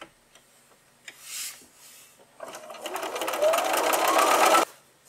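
A sewing machine stitches the wedge seams of a wavy table runner, running in one steady, close burst of about two seconds after a quiet pause with faint handling taps.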